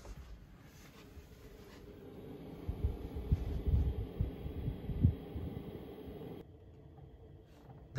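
A diesel heater running inside a van gives a low, throbbing rumble with a pulsing rhythm that swells and fades, close and steady with no talking.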